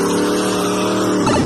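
A muscle car drives fast past the listener, its loud engine roaring steadily close by, with a hint of tire squeal rising near the end.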